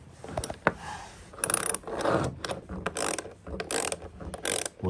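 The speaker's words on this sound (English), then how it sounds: "we'll get a 3/8 inch wrench. Get on there and tighten it." A 3/8 inch wrench tightens a plumbing fitting in a converted horse trailer, giving close, irregular bursts of ratcheting clicks and metallic clatter in short repeated strokes.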